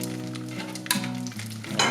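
Chicharon pork rinds hiss and sizzle steadily in hot oil, a close, continuous frying crackle with a brief louder burst as more pieces go in.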